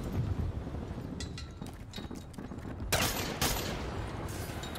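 Machine gun fire in Call of Duty custom zombies, with scattered short bursts and sharp cracks that grow denser and louder toward the end over a noisy game background.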